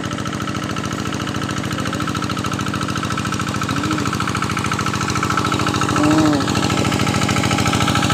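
A hand tractor's small engine runs with a harrow attached, a loud rapid chugging pulse that hammers on steadily throughout, close by, with faint brief voices drifting over it.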